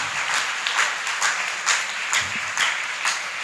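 An Easter church congregation claps in a sustained round of applause, with rhythmic bursts of hands beating together filling a large room, loud and continuous with no speech over it.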